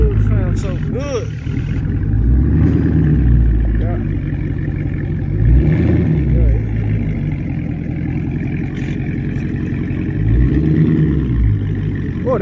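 A Dodge Charger Scat Pack engine revs in a garage, rising and falling in repeated swells over a constant low rumble, with people talking over it throughout.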